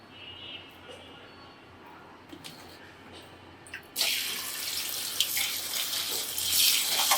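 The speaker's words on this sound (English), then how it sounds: "now we are going to wash the red spinach or red vegetables." Red spinach washed under a running kitchen tap: a quiet stretch with faint handling, then a steady loud gush of water splashing over the leaves in a sink for the last few seconds, heard alone without talk.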